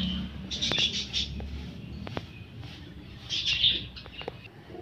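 Pigeons with tied wings in a pigeon house during cleaning: short chirps and calls from nearby birds in a few quick clusters, over a low background rumble with scattered clicks.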